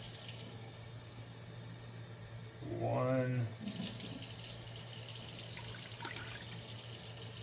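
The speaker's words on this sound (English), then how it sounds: "Get that water in." Water from a kitchen tap pours into a pot for Tuscan chicken stew in one short burst of about a second, its pitch rising as it fills, over a faint steady hum while someone speaks briefly.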